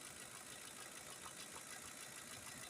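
A Lincoln 5.4 engine idling with an ignition misfire, a low, even rumble heard faintly and steadily with no talking over it.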